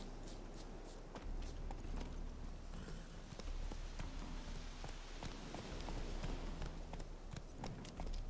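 Hooves of the horse Roach clip-clopping in The Witcher game, a steady walking and trotting rhythm of hoofbeats drawing close over ambient game sound, with no talk.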